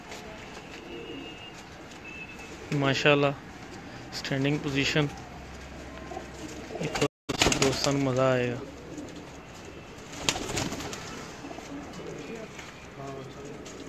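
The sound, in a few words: Firozpuri pigeons cooing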